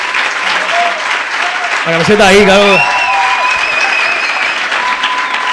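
Audience applause after a talk on physical exercise and mental health at a science night event, sustained clapping from a crowd with someone speaking over it briefly.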